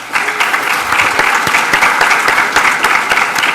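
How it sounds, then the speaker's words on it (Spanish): An audience at a tech meetup breaks into applause, a brisk, fairly close burst of many hands clapping that starts abruptly and continues evenly for a few seconds. "quisiera que les diéramos un aplauso"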